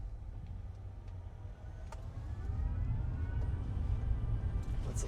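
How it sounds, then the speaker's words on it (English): A Farizon Supervan electric van pulling away at low speed gives off a futuristic electric whine that climbs steadily in pitch as it accelerates, riding over a low rumble of road and cabin noise. "I love hearing that electric whir though"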